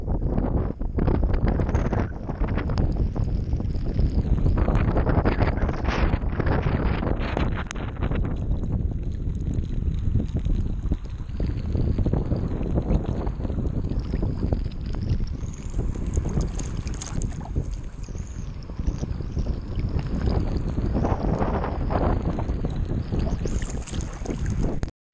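Wind from a rain squall passing by, a loud continuous roar buffeting the microphone, rising and easing in gusts for the whole stretch, with no voices.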